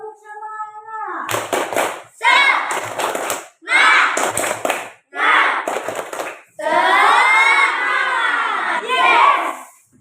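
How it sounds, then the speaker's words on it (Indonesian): Children in a classroom perform the 'tepuk semangat' clapping chant, shouting in loud rhythmic bursts separated by short pauses, ending in a longer drawn-out cheer. "Coba tepuk semangat"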